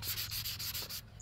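Sandpaper rubs over spray paint on an Estes Hi-Flier XL model rocket in short, rhythmic back-and-forth scratchy strokes, close and quiet, with no talking.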